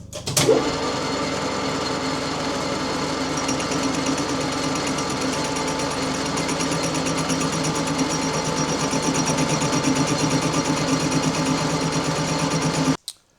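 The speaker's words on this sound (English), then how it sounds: "I'm just cutting the weld off the flange with a lathe so it's all nice and level" A lathe cuts the weld off an old exhaust flange, leveling the face: a steady, loud, continuous machining whir with a high metallic hum that runs unbroken throughout, then stops abruptly at the end.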